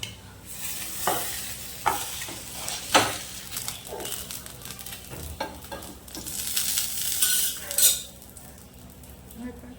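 Rava handvo, just flipped, sizzles in oil on a pan, a steady crackle punctuated by several sharp clinks and scrapes of a spatula against the metal, with brief quiet talk.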